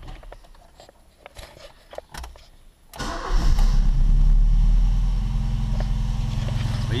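Original Ford Fiesta Mk2 Zetec engine cranks briefly after quiet clicking and handling noises, then catches instantly and settles into a steady, loud, close idle.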